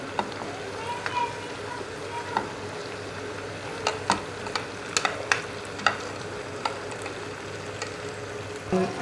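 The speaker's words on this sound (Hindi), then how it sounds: "हमने बंद गोभी जो ऐड कर दी है चिकन में, अब इसको मिक्स करेंगे।" Chicken and shredded cabbage being stirred in a frying pan for shawarma, with a steady sizzle and repeated close scraping clicks of a spoon against the pan.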